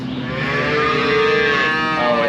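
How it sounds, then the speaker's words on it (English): Weaned calves on a farm moo loudly and continuously, several overlapping bawling calls sustained throughout with no talk. "Sounds like hungry calves."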